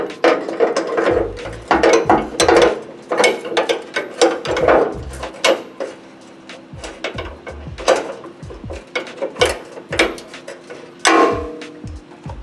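A ratchet tightens bolts on a fuel tank skid in a garage, giving loud, close runs of rapid clicking in repeated bursts with brief pauses between strokes.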